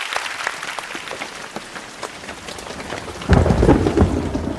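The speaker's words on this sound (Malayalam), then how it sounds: "മഴ എല്ലാവർക്കും ഭയങ്കര ഇഷ്ടമാണ്." Heavy rain pours in a thunderstorm, a dense continuous hiss of drops that swells into a loud, deep rumble of thunder near the end, with no talk.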